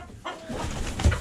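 Chickens clucking in a backyard coop, a short burst of soft, close clucks and fowl calls with no talking.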